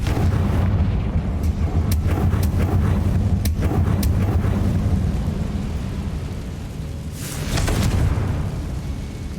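A loud, rumbling blast and crackling burst of the Confringo explosion spell in the game Hogwarts Legacy, sustained booming roar with sharp cracks and a second surge near the end.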